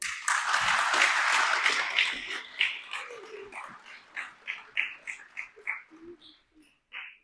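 Applause from an audience at an annual retreat gathering in Pennsylvania, a dense burst of clapping that thins out and fades over several seconds as scattered voices and stray claps remain.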